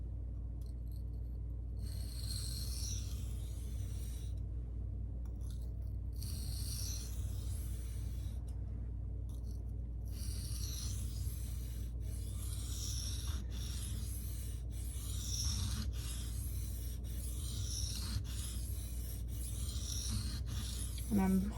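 A CPM 1V steel knife is sharpened freehand on a 600 grit stone, producing repeated soft rasping strokes in regular bursts with brief gaps, close but quiet over a steady low hum.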